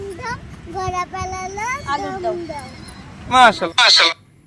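A child chants a rhyme in a rhythmic sing-song voice while riding a horse, then the horse lets out two loud, close whinnies near the end.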